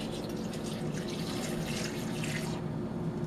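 Water runs steadily for a few seconds, a continuous splashing pour with a faint dripping quality, close by and without any talking.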